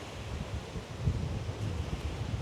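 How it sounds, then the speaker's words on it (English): Steady blustery wind roars and buffets the microphone outdoors on the coast near Pacific Grove, California, a continuous rumbling rush with no voices. "Quite windy"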